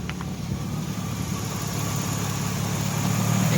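A 2001 Ford Sport Trac engine idles smoothly after a faulty fuel injector was replaced, a steady low hum with a constant mechanical drone, moderately close and alone, growing slightly louder toward the end.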